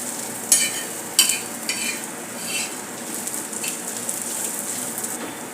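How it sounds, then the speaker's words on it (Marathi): Finely chopped onion roasting in a pan, a continuous bright sizzle with a few sharp stirring scrapes near the start, close and moderately loud, with no talking. "मी एक मोठा कांदा बारीक चिरून हा भाजण्यासाठी घेतलेला आहे अशा प्रकारे आपल्याला चांगला भाजून घ्यायचा आहे"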